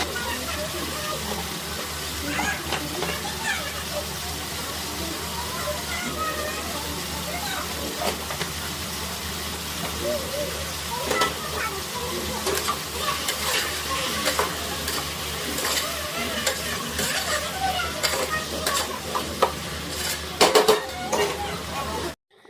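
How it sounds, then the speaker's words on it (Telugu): Sliced bitter gourd fries in hot oil in an open pan, a steady loud sizzle with stirring scrapes throughout and a voice talking over it. "ఇట్లాగా కొద్దిగా ఆయిల్ హీట్ అయిన తర్వాత మొత్తం అయితే వేసేసుకొని ఆయిల్లో బాగా ఫ్రై అవనివ్వాలి"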